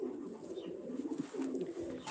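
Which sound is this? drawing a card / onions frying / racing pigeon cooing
racing pigeon cooing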